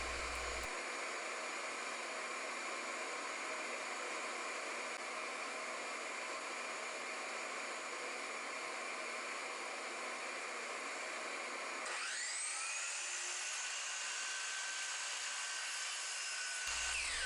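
A power saw cuts old oak hardwood flooring into table legs with a loud, continuous whirring buzz that shifts to a higher, sharper whine partway through the cut before stopping.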